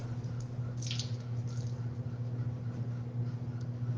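Freshly dyed wet yarn is squeezed to press out the excess water, giving a couple of soft, close squishes over a steady low hum.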